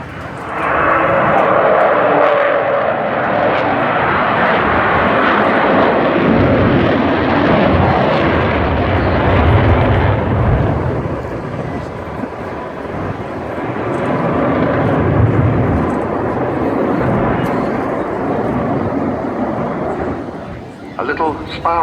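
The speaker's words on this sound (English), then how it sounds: "He's flying Vulcan today as we watch." The Avro Vulcan XH558 jet bomber roars loud and continuous overhead during its last display at Bournemouth, a deep rumbling engine sound that swells and eases as it climbs and turns, with a commentator talking over it.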